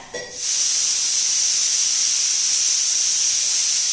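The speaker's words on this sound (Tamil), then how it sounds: "இப்போ இது ஒரே விசில்" A kitchen pressure cooker on the stove lets out a single steam whistle: a loud, sharp hiss bursts in after a brief moment and holds steady to the end.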